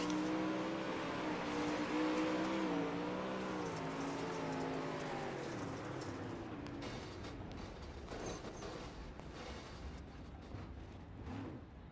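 Onboard engine roar from a dirt track race car at Lernerville, loud and close throughout, with the pitch rising and falling as the driver works the throttle through the turns, growing rougher and noisier toward the end.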